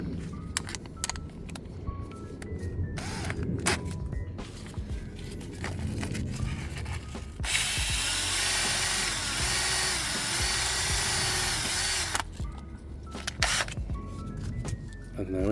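A power drill fitted with sandpaper whirs in a sustained, steady spin for several seconds while cleaning brake parts on a Skoda Fabia, framed by handling noises and someone talking before and after.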